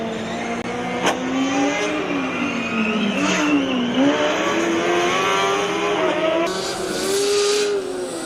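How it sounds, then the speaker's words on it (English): A Formula Student combustion race car's engine drones and revs up and down as it drives endurance laps, the pitch rising and falling, loud and fairly close. "Car from Wrocław is just constantly making the way around the endurance run"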